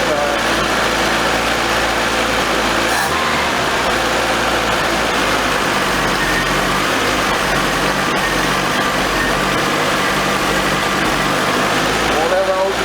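An old 1982 Nissan 720 King Cab truck engine runs roughly with the choke not fully open, a constant close, loud mechanical drone with a brief dip early on, and a voice talks over it.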